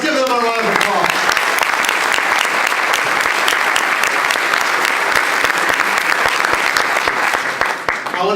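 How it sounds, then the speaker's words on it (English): Loud audience applause at a college general assembly for a steering committee, dense continuous clapping with distinct individual claps standing out, sustained for several seconds before tapering slightly. "Let's give them a round of applause."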